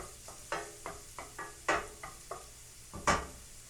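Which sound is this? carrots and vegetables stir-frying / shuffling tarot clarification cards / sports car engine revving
carrots and vegetables stir-frying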